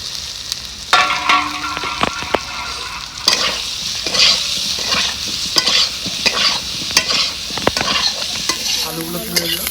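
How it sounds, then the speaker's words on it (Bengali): Potatoes frying in mustard oil in a home kitchen, a steady loud sizzle broken by repeated scraping and stirring clatter from a utensil, with no talking. "এখানে আরেকটু সর্ষে তেল দিয়ে দেবো আলুটা ভেজে নেবো আমি"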